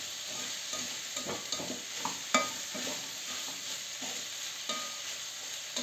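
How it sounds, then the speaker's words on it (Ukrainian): Onion and carrot frying with meat in a pan for Hutsul-style roast, a steady soft sizzle with light stirring scrapes throughout, close and without talk. "Трошки аби підсмажилася, і цибулька і морква."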